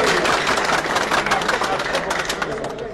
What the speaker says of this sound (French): Nous demandé un gros applaudissement au sénateur Guy Philippe qui répond à l'appel.